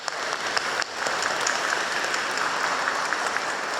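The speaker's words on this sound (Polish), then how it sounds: "Dziękujemy, brawo, żeby podziękować Jezu." A crowd claps steadily at a children's rosary group gathering in Mordarka, a dense, lively round of applause that holds at a constant level throughout.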